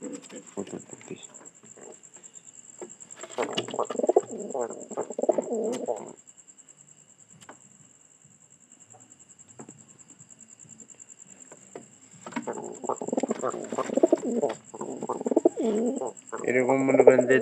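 Pigeon cooing in short bursts from a bird kept at home, fairly close and moderately loud, separated by a quiet stretch in the middle.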